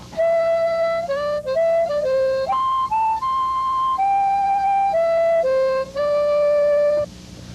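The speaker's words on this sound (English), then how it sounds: "Another great straight harp melody is Old Folks at Home." Harmonica in straight harp style playing the melody of Old Folks at Home, a sequence of held reedy notes stepping up and down in pitch with short breaks, close-miked and unaccompanied.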